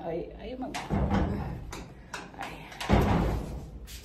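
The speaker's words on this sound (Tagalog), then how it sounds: "Magsarado yung pinto namin." An apartment door swings shut indoors with a couple of thuds and latch knocks, moderately close, while someone talks around it.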